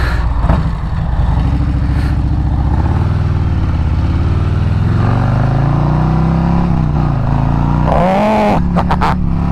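A stock 2024 Harley-Davidson Road Glide motorcycle accelerates hard, its loud, deep V-twin rumble climbing steadily in pitch through the gears, with a brief shift near the end; no talking over it.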